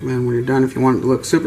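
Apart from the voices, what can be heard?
No distinct noise like a dog, phone or traffic.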